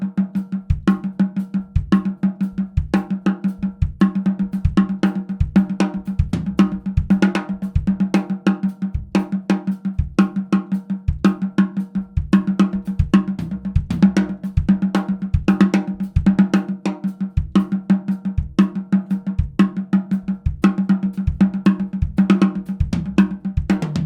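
A drum kit plays triplets that jump into sixteenth notes in 6/4, a dense run of loud, close, evenly driven hits that continues without pause and without any talking.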